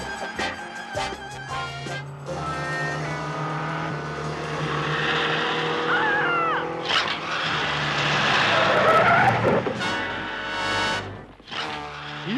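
A cartoon sports car, the one Gloria Vanderfeller drives in Fangface, roars and whines as it races along, with tire skids and swelling engine noise that stays loud and continuous throughout.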